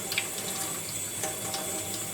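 Tap water runs steadily into a sink while a makeup brush is rinsed under it, a continuous close splashing hiss with small shifts in the flow and no talking.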